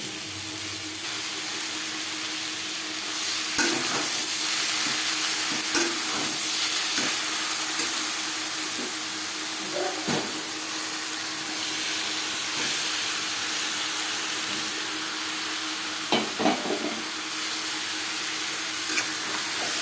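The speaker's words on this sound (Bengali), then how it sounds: "এই পর্যায়ে দিয়ে দেব ম্যারিনেট করে রাখা মাংস।" Marinated chicken frying in a pot with lightly browned onions for an aloo chicken curry, giving a continuous hissing sizzle broken by scattered stirring knocks and scrapes over about twenty seconds.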